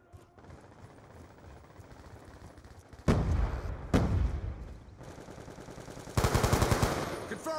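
Automatic gunfire in the video game Black Ops 2 aimed at a hostile UAV: a few loud bursts after a quieter stretch, ending in a long rapid volley, with faint game noise beneath.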